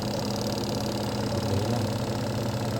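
A brand-new spin dryer's drum spinning on its motor, with a steady, continuous mechanical hum and whir that holds constant and close throughout, with no talking.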